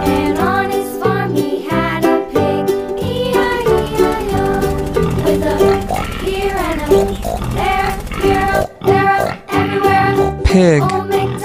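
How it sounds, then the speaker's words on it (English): A cartoon farm pig oinks and grunts over a bouncy children's song, the snorts repeating through the busy music. "Pig."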